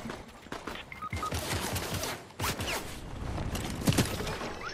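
Rapid bursts of video game gunfire from a bot opponent, dense and continuous with clattering transients throughout, fairly loud and close with no talk over it.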